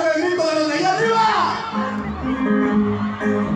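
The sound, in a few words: women in concert crowd shouting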